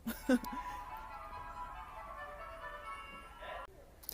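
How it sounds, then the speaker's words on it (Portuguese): A distant loudspeaker on a passing street cleaning vehicle plays a muffled, droning announcement or tune, faint under background noise, with a brief nearby voice at the start. "Ah, não era o carro da pamonha, gente. Era o carro da limpeza."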